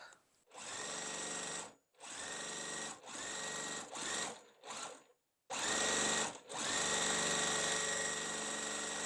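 A sewing machine stitches a quilt block in bursts of steady, fast whirring, stopping and starting several times with short pauses, then running longer toward the end.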